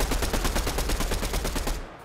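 Rapid automatic gunfire in the video game Fortnite, a loud, dense burst of regularly spaced shots lasting about two seconds before cutting off abruptly.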